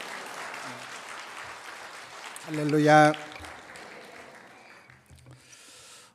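A church congregation at a revival meeting applauds a pastor coming up, a soft wash of clapping that a loud single spoken word briefly rises over before the noise fades away.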